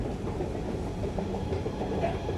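An Istanbul Airport metro train arrives at Göktürk station, rumbling with a steady low roar and faint clickety-clack of wheels on track, continuous throughout.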